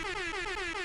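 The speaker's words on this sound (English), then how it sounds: "I got to give an air horn for this one." A loud, sustained air horn blast holding one steady brassy tone for under a second, with no other sound around it.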